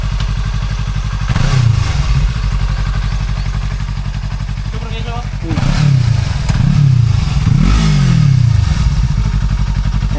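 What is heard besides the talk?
Yamaha YZF motorcycle engine with slip-on exhaust elbow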